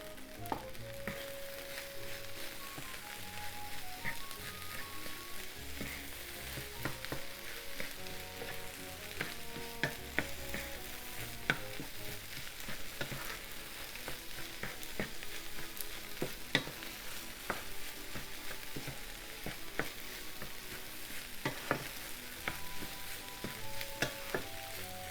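Dried shrimp and garlic chives stir-frying with rice in a pan, a loud, steady sizzle with frequent spatula scrapes and taps throughout, close and without talk.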